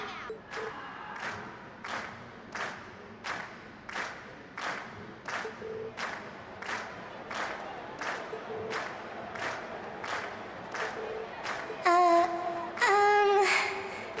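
Crowd cheering and applause from an audience after a class performance in the video game Trails of Cold Steel, rising in steady repeated swells, with a brief bright musical or game tone near the end.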